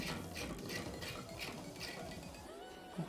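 Screws ratcheting down while a CPU cooler is mounted onto a gaming and editing PC, a steady run of close, fine clicking turns with a few faint knocks, no voices.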